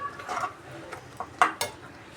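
Several quiet, irregular scrapes and clinks come from a spoon stirring tomato pickle as it cooks in a pan on a stove.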